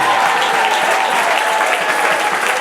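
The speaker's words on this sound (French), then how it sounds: "On acclame le Seigneur." A church congregation breaks into sustained applause acclaiming the Lord after a temple dedication, a loud, dense wash of clapping hands from many people filling the space without pause.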